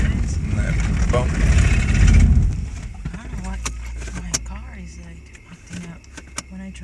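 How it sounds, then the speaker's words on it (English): A vehicle drives over a rough, bumpy bulldozer track, with a loud rattling rumble at first, then the engine idles low while keys jangle and scattered clunks and knocks sound close by. "That's all bulldozer track, and we're driving over."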